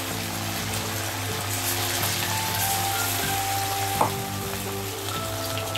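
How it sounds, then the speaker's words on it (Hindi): Chicken pieces fry in hot oil in a kadai, giving a steady, dense sizzle that runs unbroken throughout, close and loud, with a faint clink partway through. "अभी हम एक एक करके चिकन को ऐसा फ्राई करके ले लेते हैं।"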